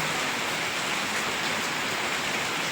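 Heavy rain pours down steadily over ripening paddy fields, a dense even hiss with no break and no voices.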